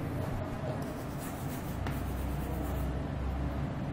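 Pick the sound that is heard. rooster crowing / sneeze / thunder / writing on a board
writing on a board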